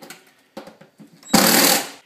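Screwing a range hood's upper chimney bracket to the wall: a few short taps and knocks, then a loud power-driver burst lasting under a second, close by.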